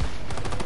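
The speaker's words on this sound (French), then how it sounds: "Allez, je tire au plafond." Rapid gunfire rings out as a weapon is fired at the ceiling in a zombie video game, a short loud burst of closely spaced shots filling the whole moment.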